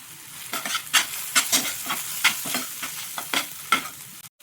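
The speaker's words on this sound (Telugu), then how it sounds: "ఇప్పుడు ఈ ఉల్లిగడ్డలు వేసుకొని బ్రౌన్ షేడ్ వచ్చే వరకు, కొంచెం మగ్గే వరకు వేపుకుందామండి." Onions fry in a pan for a paneer bhurji, sizzling continuously under regular scraping stirs that come about twice a second, close and clear, with no talking.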